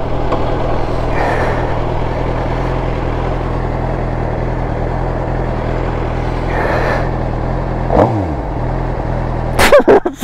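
A 750 motorcycle engine idling steadily with a low throb, swelling briefly in a couple of mild revs, then a sharper rise and clatter near the end.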